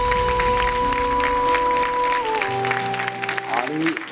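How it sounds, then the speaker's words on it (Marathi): A studio audience at a television talk show breaks into loud clapping over sustained background music tones, the applause fading toward the end. "एकदा जोरदार टाळ्या."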